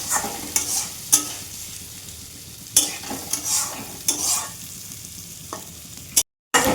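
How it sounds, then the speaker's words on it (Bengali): Rice grains frying dry in a pan, with a soft steady sizzle broken by repeated scraping strokes of a spatula stirring, close and clear with no talk. "এবার চালগুলি একটু ভেজে নিই।"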